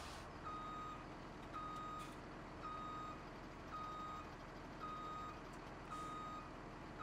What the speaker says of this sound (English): We'll need to move our international grain truck out of the way.